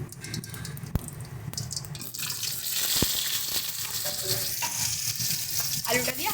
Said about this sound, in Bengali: জিরেটা দিয়ে আমরা লম্বা লম্বা করে কেটে রাখা আলুগুলোকে ভেজে নিচ্ছি।